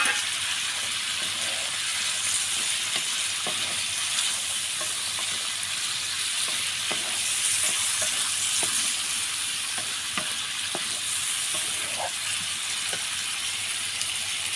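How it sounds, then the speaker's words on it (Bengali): Drumstick pieces being sautéed in spices alongside dried fish in a pot on a clay stove, with a steady close sizzle and occasional clicks of stirring, no talk. "আর আমি কিন্তু এখন সজনেগুলা দিয়ে দেব। সজনেগুলাকে হচ্ছে আমি মশলাতে কষাবো।"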